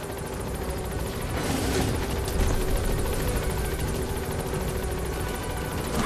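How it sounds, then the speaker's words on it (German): A support helicopter in the video game Metal Gear Solid 5 drones continuously, its dense rotor whir steady and fairly loud throughout with no speech. "Support helicopter requested."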